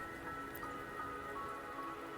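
Rain falls in the video game Wuthering Waves, a steady even patter of drops on surfaces filling the short stretch, with no voices over it.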